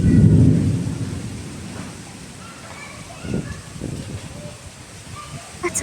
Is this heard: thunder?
yes